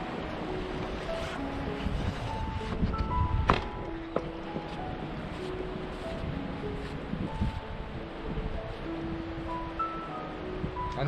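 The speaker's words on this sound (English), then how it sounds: "It's very windy." Strong wind buffeting outdoors at an Iron Age boat-grave site on Bornholm, a continuous rough rumble with gusty swells, under faint background music.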